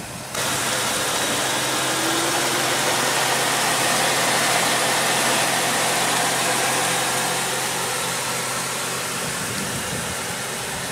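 A 2015 Dodge Challenger SXT's 3.6 liter V6 with variable valve timing idles steadily and loudly, a continuous even engine drone with broadband noise across the whole clip and no talking.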